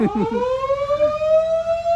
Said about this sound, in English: that siren, folks, is a lunch announcement saying, Pause a pranzo!